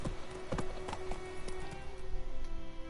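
Geralt's horse Roach trots in The Witcher 3 with a handful of soft, uneven hoof clops over a steady droning game tone and ambient background.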